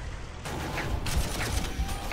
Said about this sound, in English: Man, the gun on that salamander is amazing. What is that? It's an autocannon, that's why.